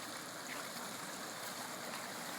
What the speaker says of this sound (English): Just usually a little creek, obviously a big creek now.